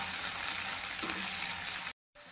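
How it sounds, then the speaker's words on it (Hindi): Washed chana dal and spices roasting in a pan give a steady, close sizzle that runs unbroken for nearly two seconds, then cuts to silence before resuming more faintly. "1 से 2 चम्मच चना दाल धुली हुई है। सारी चीजें को भून लेंगे अच्छे से।"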